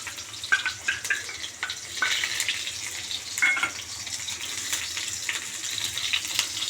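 Crushed garlic fries in hot oil with a close, steady crackle of small pops and spits, a few sharper scrapes and clinks scattered through, and nobody speaking.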